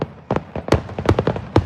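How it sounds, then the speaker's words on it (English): Fireworks burst in the distance at a youth football game, a series of sharp, separate bangs spaced unevenly over a bit under two seconds, with some crowd or field noise between them. "You see the fireworks on the background here."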